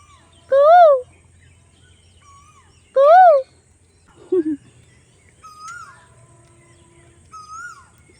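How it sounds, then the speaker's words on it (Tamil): A koel calls twice in clear, loud rising whistled notes, followed by fainter scattered chirps and bird calls in quiet outdoor surroundings, with a brief low grunt in between. "குயில் வந்து வழக்கம் போல் சவுண்டு விட ஆரம்பிக்க போகுது"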